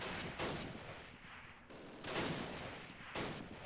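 A 2-inch mortar firing in the Close Combat wartime strategy game, a few heavy muffled booms spaced about a second and a half apart, each followed by a rumbling noisy tail, moderately loud with no voices.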